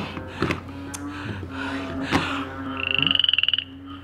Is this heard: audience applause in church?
no